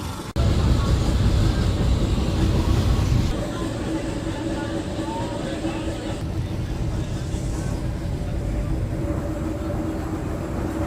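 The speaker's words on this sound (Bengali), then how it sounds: "আমরা ট্রেনে উঠে বেশ অনেকটা চলে এসেছি" Steady low rumble and rattle inside a moving, fairly empty passenger train travelling toward Basirhat in Bengal on a mild day, loud and continuous with a brief quieter start and a slight drop in level partway through.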